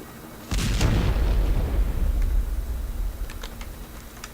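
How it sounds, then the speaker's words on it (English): A loud burst of gunfire erupts and rumbles on in ArmA: Cold War Assault, followed by scattered fainter shots in the distance. "I hear gunfire."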